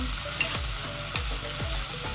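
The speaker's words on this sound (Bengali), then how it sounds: "তেলটা গরম হয়ে যাওয়ার পর দিয়ে দেব পেঁয়াজটাকে ভেজে নেব।" Onions frying in hot oil for a Maggi noodle dish with winter vegetables, a steady close sizzle with soft repeated stirring scrapes.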